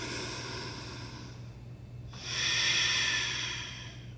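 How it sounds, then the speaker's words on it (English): Slow yoga breath drawn in and let out through the throat, close and soft, a long steady exhale followed by a louder, rushing inhale over a low constant hum, with no talking. "Breathing in and out."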